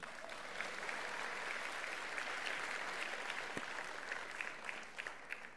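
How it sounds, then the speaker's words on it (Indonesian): Audience applause fills a hall during a political party leader's speech, a dense, steady clapping that runs throughout at moderate distance. "Tepuk tangan dulu dong."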